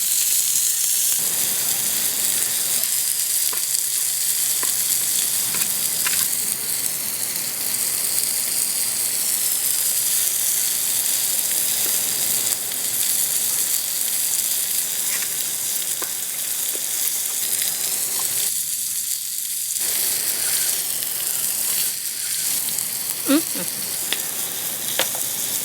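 Rohu fish fries Kerala style in a hot pan, giving off a continuous, even sizzle and hiss for the whole stretch, with a couple of brief dips.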